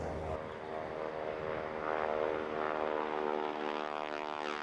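AT-6 Texan propeller trainers flying in formation produce a continuous droning engine and propeller roar with a harmonic buzz, swelling slightly louder midway, heard at a moderate distance without speech.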